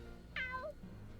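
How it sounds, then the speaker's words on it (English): A cat in the video game Fire Emblem Three Hopes lets out a single clear, rising-then-falling meow, short and fairly close, over a low steady game backdrop with no talking. "A cat. Does it live here?"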